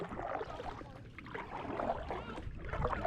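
Paddling a small boat out on Quemahoning lake: faint, continuous watery swishing and wind rustle, soft and steady throughout, with no clear talk.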